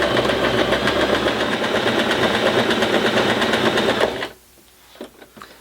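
A home sewing machine stitches out a decorative letter-style stitch, a fast, steady mechanical whir and rapid needle clatter running for about four seconds before stopping abruptly, followed by faint handling noises.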